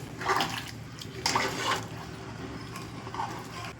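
Water splashes and pours steadily into a cooking pot of egg tomato pulao at close range, with a few louder gushes along the way.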